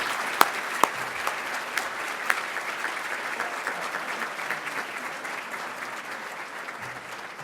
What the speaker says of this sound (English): Please join me in giving Mr.